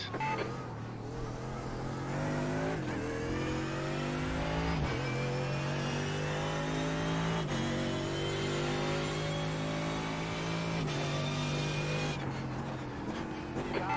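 A Mercedes AMG GT3 race car engine drones continuously through gear changes at Spa-Francorchamps in iRacing, its pitch climbing and dropping with each shift, loud and close throughout.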